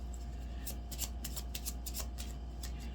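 Tiny tarot cards are cut and shuffled, giving a quick run of faint, crisp card flicks over a steady low hum.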